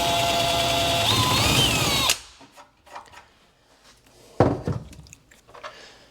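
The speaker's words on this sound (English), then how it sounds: "I'm gonna take what's called a countersink bit and actually drill that hole out so the screw sits nice and flush in there" A power drill fitted with a countersink bit bores out a screw hole in a wooden kitchen base cabinet face frame, a loud whirring burst of about two seconds, followed by quieter knocks and handling noises.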